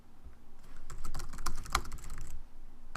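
Fingers type a short search query on a computer keyboard, a close burst of quick, uneven key clicks that speeds up mid-way and then trails off into quiet, with no talk.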